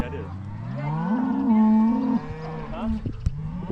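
A calf on a South Dakota cattle ranch lets out one long, loud moo that holds steady for about a second before trailing off, with some soft background noise.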